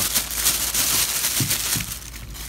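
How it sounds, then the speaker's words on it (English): A monocular being unwrapped from a small plastic bag, with close, continuous crinkling and rustling and a few soft handling knocks. "Sounds like it's in plastic. Yeah, it's in a little plastic bag here"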